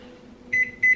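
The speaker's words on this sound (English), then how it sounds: "just chuck that in the microwave for about" A microwave oven heating couscous hums steadily at close range, and two short electronic beeps sound near the end, with no voices.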